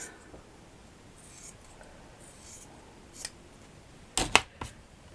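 Scissors snipping a folded paper cone for a miniature table piece, heard as a few quiet rustles and then a short burst of sharp close cuts near the end against a faint background.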